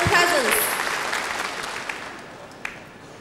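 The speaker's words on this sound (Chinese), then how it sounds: "让我们大家以热烈的掌声欢迎各位来宾的光临。" Applause from an audience welcoming guests at a sports opening ceremony, loud at first and fading over a few seconds, with a couple of isolated claps near the end.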